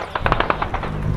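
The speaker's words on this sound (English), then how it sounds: "Gunfire comes in right above our heads." Rapid bursts of gunfire crackle close by, a quick irregular string of sharp cracks over a rumbling background.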